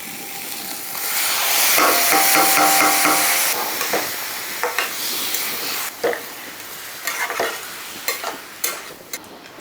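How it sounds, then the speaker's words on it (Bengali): Bottle gourd tipped into fried spices (turmeric, cumin) in a pan for a prawn dish, with a loud burst of sizzling that settles into steady frying and repeated scraping stirs. "মশলাটা ভাজা হয়ে গেছে এখন আমি লাউটা দিয়ে দিলাম"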